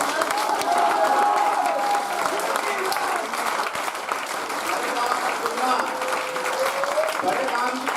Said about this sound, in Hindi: आप दोनों हाथ ताली बजा के बताओ।